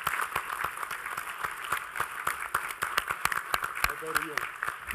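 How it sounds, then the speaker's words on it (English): Applause from the audience at a New York veterans and military families summit, sharp individual claps over a continuous clapping bed, close and lively, with a voice briefly heard. "Let's give them a round of applause"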